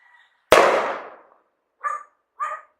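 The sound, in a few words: firecracker or gunshot outside, Mexico in December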